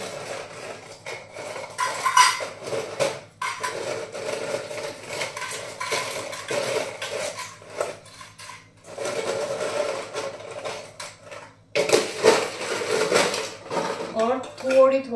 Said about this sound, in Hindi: थोड़ी थोड़ी पैक करूंगी ये साबुदाना खिचड़ी।